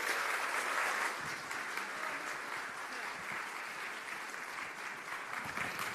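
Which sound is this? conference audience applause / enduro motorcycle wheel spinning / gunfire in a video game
conference audience applause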